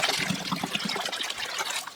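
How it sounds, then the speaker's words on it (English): Water trickles and splashes steadily as it is poured into a pot holding an Echeveria agavoides succulent, a close, continuous liquid pour with no talk. "Add some water."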